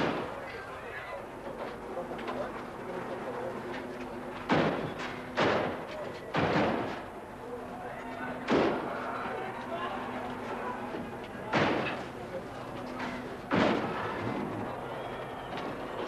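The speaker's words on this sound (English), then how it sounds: "the police used baton rounds to clear the rioters from the corner" Police baton rounds fired at rioters on a town-centre street corner, heard as about seven separate dull, booming thuds spread irregularly over a quiet background, each sharp at onset and fading quickly.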